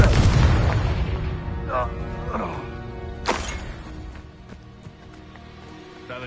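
A Confringo blasting spell explodes in Hogwarts Legacy, a loud broadband burst at the start that decays into a rumbling tail, followed by scattered game sound effects and brief voice-like tones.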